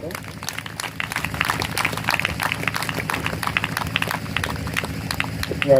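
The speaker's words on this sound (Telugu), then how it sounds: "వాళ్ళు వస్తూ ఉండగా ప్రభు మహిమాత్మ చప్పట్లు కొడదాం." An audience claps at an open-air gospel meeting in Tadivarigudem, producing a steady spatter of applause that is moderately loud and continuous, with a voice heard over it.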